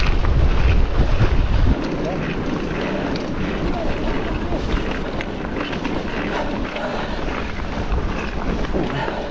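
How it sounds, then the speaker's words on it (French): Strong headwind roaring across the microphone during a cross-country mountain bike ride on flat open country after leaving hills and woods at La Thélusienne, a steady loud blustering rush throughout with a heavier gust at the start. "On retrouve le vent de face."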